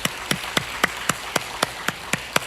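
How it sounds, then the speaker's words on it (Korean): Sharp, evenly spaced claps in a church service at a brisk steady beat, about four per second, clear and close, with no talking. "더 큰 박수로 하나님께 영광 올리시겠습니다."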